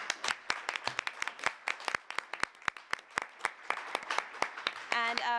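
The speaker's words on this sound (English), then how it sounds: "I'd like to conclude with a round of applause for our amazing panelists." A crowd applauds, dense clapping filling the whole stretch at steady loudness, with a brief voice near the end.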